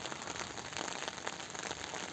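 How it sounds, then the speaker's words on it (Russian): Steady rain falls on roses planted by a building entrance, a dense, even patter close by with no voices. "Дождик их поливает"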